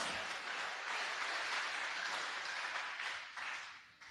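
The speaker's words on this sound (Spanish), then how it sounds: "Fuerte el aplauso a la palabra de Dios." A church congregation applauds, a dense steady wash of clapping that fades toward the end.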